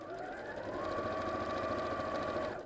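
A sewing machine runs in one steady, even burst, stitching straight down the side of a quilt block, close and fairly quiet, with no talking.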